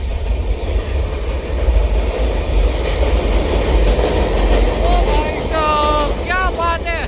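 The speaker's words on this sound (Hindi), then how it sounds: "श्रमजीवी एक्सप्रेस हम लोग को पैरेलल ओवरटेक कर रही है। ट्रैक साउंड सुने," Shramjeevi Express overtaking on a parallel track between New Delhi and Rajgir, a loud continuous rumble of wheels and rails close by, with rising and falling whistle-like tones near the end as it passes.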